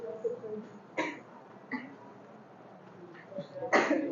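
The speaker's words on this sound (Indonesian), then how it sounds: "Kenapa batuk?" A person coughs sharply a couple of times, with a throat-clearing sound in between, over a background of ongoing conversation.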